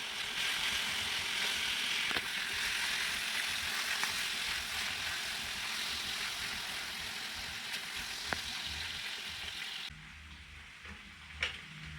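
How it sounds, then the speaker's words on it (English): Chicken livers sizzle and crackle steadily frying in butter in a hot pan, a bright hiss with occasional pops and stirring sounds, quieting toward the end. "Now we'll start off by frying our chicken livers until golden brown."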